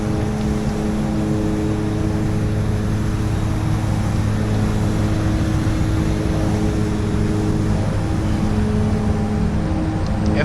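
A De Havilland DHC-6 Twin Otter turboprop on skis in a flight sim spools up, its engine drone loud and steady with layered tonal hums and a high whine throughout.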